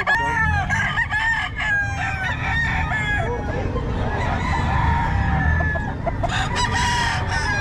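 A rooster crows repeatedly, loud and close, with drawn-out calls overlapping other fowl clucking and crowing around it in a Filipino yard.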